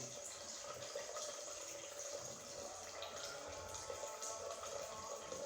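Water filling a tank in an Arduino-controlled automatic filling system, a soft, steady trickling and splashing stream, faint and even throughout.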